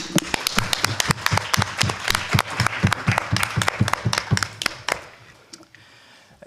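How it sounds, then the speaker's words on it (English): Applause breaks out at a CB14 monthly community board meeting to welcome new board members, distinct individual claps from a modest room audience in a steady patter that fades out toward the end. "let's give them a round of applause and welcome the CB14"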